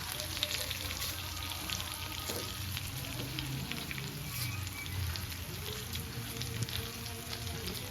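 Chopped tomatoes sizzle steadily in a pan for tawa chicken, a dense, continuous frying hiss with faint stirring scrapes, moderately close and alone with no talking.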